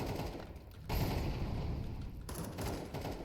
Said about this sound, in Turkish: Smoktan keserek vurdu beni ya.